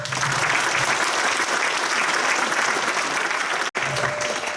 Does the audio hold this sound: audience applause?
yes